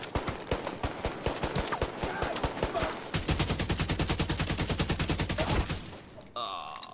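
Gunfire in The Division 2 on PC: rapid, close, loud automatic bursts hammer almost without pause, then break into a denser stretch of fast shots before cutting off.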